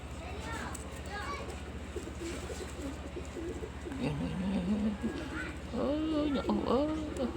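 Young squabs coo inside a pigeon loft while ringing takes place, a soft, low cooing that runs under steady talk and grows louder in the last few seconds.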